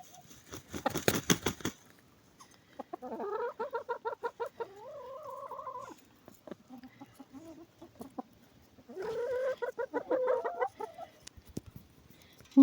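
Farmyard hens, young light ones and older dark ones, cluck and croon in a couple of drawn-out bursts, fairly close, with a short clatter at the start and quiet gaps between calls.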